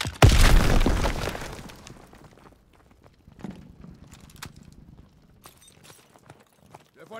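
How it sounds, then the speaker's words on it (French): A grenade blast in the Call of Duty WW2 video game bursts loudly at the start and rumbles away over a couple of seconds. Scattered game sounds follow, softer and irregular. "J'enchaîne une grenade."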